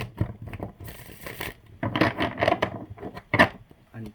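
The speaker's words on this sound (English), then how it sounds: "I'm gonna shuffle." Tarot cards being shuffled by hand, soft papery rubbing and riffling bursts in short irregular runs, close and fairly quiet.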